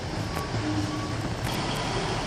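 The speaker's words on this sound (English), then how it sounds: "So I'll just quickly let you know that the train's going back in now." A train rolling slowly back into the depot at Exeter St David's station, a steady low rumble with faint metallic squeals, heard at a moderate distance.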